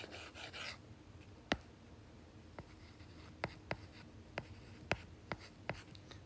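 Chalk or marker strokes on a classroom board during a Hindi literature lesson, a series of sharp, separate taps and scratches spaced out over a faint room hiss, with no voice.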